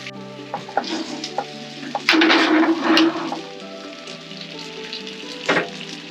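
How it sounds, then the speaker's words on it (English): Bacon frying in a closed pan at an outdoor campsite gives a steady sizzle, rising to a louder, denser burst midway, with faint clinks and outdoor background noise and no talk. "I'll close him up, see if we can get a bit more colour on the bacon."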